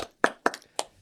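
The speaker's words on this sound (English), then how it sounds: "Can we have a round of applause" Three sharp, separate hand claps, evenly spaced and close, in a quiet podcast studio, sounding more like a small scattered clap than a full round of applause.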